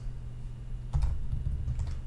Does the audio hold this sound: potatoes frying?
no